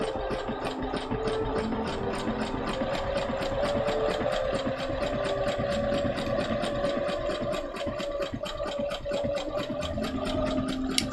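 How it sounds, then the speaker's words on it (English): A sewing machine stitches fabric for a cosplay costume, running as a steady, continuous mechanical whir at full pedal with a rapid, even rhythm throughout, close and moderately loud with no talking. "I have got my foot all the way down the sewing pedal."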